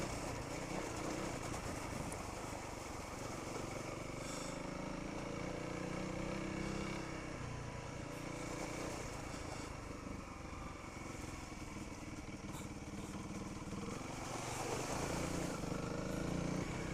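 A Honda CRF300L motorcycle rides off-road, its engine droning steadily and loudly throughout with small shifts in pitch as the throttle changes.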